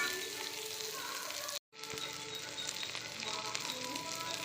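Onions sautéing in an oil-filled pan while making a raw banana stir-fry, a steady loud sizzle and crackle throughout, broken by one brief silent gap just before the two-second mark.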